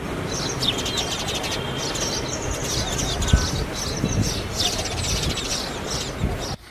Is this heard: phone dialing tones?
no